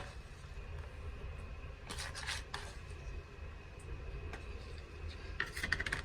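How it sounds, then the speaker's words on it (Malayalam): Cooked chicken and onions are mixed in a bowl for crispy chicken cocavada. A utensil scrapes and rubs steadily against the bowl, with a few sharper clinks of metal. "അതും ഒന്ന് മിക്സ് ചെയ്ത് കൊടുക്കുക ചിക്കനും ഉള്ളി എല്ലാം മിക്സ് ചെയ്ത്"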